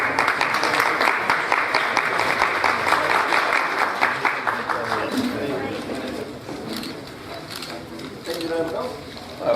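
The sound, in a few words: applause for the commander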